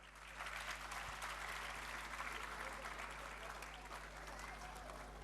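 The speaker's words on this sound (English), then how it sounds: "They deserve a very big round of applause." A large audience claps at a school annual function after a children's stage performance, a dense, continuous round of applause heard from a distance, even and sustained over a low steady hum.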